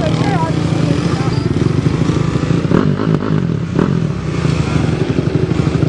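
Quad ATVs, one with two motors, revving loudly on a hill climb in March with snow still on the ground, a steady engine roar with clattering and thumps under nearby voices talking.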